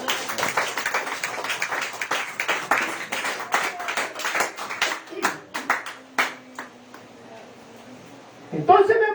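A church congregation claps during a Spanish-language sermon on the law of the Spirit, a run of sharp, fairly loud hand claps that thin out and then fade, with voices mixed in and a speaker resuming at the end.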